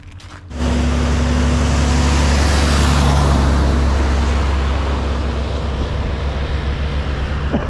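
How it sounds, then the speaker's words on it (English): A big truck approaching on a mountain road in the freezing Georgian Caucasus, its engine rising suddenly into a loud, sustained low rumble and roar with a steady hum that holds and slowly fades, heard from inside a vehicle. "There's a big truck coming."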